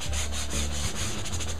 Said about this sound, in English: sandpaper and you rub literally on top of the paper